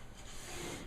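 Hand sanding of a kitchen cabinet with 220-grit sandpaper, a steady soft scratchy rubbing that continues without a break at close range, quiet and alone.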